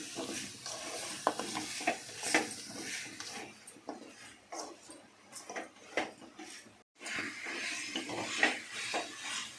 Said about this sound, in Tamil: காய்கறிலாம் நல்லா வந்து எண்ணெயில் வதக்கி விட்டுடலாம்